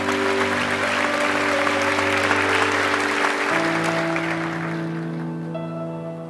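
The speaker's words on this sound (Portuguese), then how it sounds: "Dê o melhor aplauso ao Senhor," Sustained applause from a church congregation, dense and steady over held keyboard chords, gradually fading toward the end.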